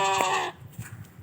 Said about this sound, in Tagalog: Siya po ay humihiyaw na hindi natin naiintindihan, pero bilang isang mag-aalaga ng kambing